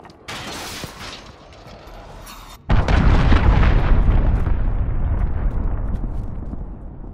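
A cruise missile strike in the shooter game Call of Duty: Modern Warfare: an enemy missile lands as a sudden loud, close explosion that rolls into a long, heavy rumbling roar which slowly fades, with no talk.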